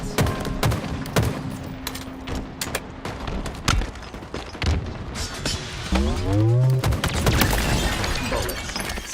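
Gunfire during a competitive Halo LAN scrim: dense, rapid bursts of shots and sharp cracks, with a short whooshing effect near the end and no talk over the shooting.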